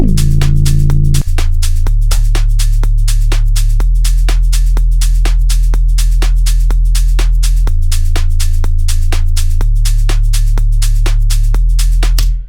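An isolated synth sub bass, cut below 100 Hz with a linear EQ, drones as deep sustained notes that shift pitch a few times, with faint rhythmic ticking above, loud and steady with no speech.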